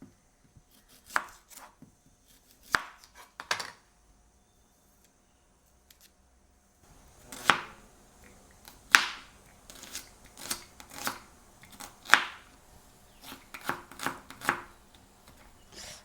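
Knife chopping tomatoes, onions and green chillies on a board for mutton biryani, in irregular bursts of sharp close taps, a few at first, then a denser run after a pause.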